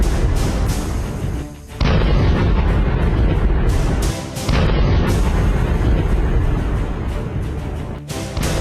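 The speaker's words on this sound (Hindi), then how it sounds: "जोरदार धमाके की आवाजों से इलाका गूंज उठा" Heavy booming explosions from airstrikes on the Gaza Strip, several deep blasts in succession with brief lulls between them, loud and rumbling.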